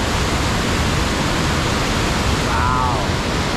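Close by, Portage Falls on the high-flowing Upper Missinaibi River thunders in a constant, heavy rush of water, and a brief faint voice comes through the roar.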